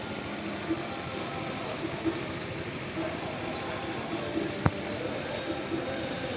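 A warmed-up Honda Vario 150 scooter idles steadily at close range, a continuous even engine hum with a single sharp click partway through.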